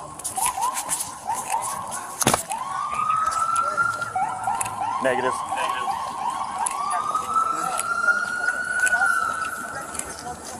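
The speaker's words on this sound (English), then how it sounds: "I think that's the ambulance pulling up." An ambulance siren arriving at a police tasing scene, wailing and rising and falling in long sweeps at moderate distance, with a sharp loud crack early on and a brief spoken reply over it.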